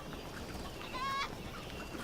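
A chicken in the video game Crysis gives a single brief, faint cluck amid a steady background of game ambience, with no one talking.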